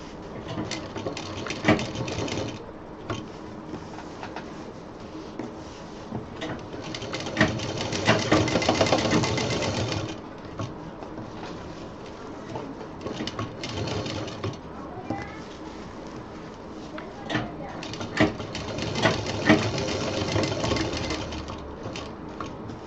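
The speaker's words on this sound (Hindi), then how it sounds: "बेल्ट की जो ऊपर का सिरा है उसको ज़रा मजबूती से सिलना है" A sewing machine stitches a diaper bag belt in bursts of rapid, close mechanical whirring that start, stop and restart, with quiet handling noises between runs and talk over parts of it.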